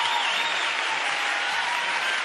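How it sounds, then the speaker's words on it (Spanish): Studio audience applauding at a New Year's Eve television special, a dense, steady burst of clapping from many people close by, heard without talk. "un aplauso para ellos."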